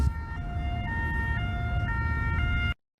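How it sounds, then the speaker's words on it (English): A European two-tone siren alternates steadily between a high and low pitch, loud and continuous, then cuts off abruptly. "This is a European siren."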